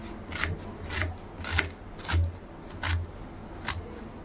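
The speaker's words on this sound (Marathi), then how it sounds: "कांदा चिरून घ्यायचा आहे आपल्याला, हे बघा लांब लांब चिरून घ्यायचा आहे ते पण मस्त" A knife slices an onion lengthwise on a board, giving about six evenly spaced, close, crisp cuts over a faint background hum, with no talking.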